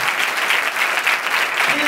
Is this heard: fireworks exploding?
no